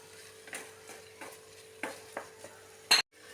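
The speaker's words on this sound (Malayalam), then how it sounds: "ഇതിലേക്ക് നന്നായി കഴുകി വൃത്തിയാക്കി വെച്ചിരിക്കുന്ന കൊഞ്ച് ചേർത്ത് നന്നായിട്ടൊന്ന് ഇളക്കി കൊടുക്കാം." Washed prawns are being stirred in a pan for prawn biryani: a faint low sizzle under a series of distinct spatula scrapes and taps, ending in one louder clatter.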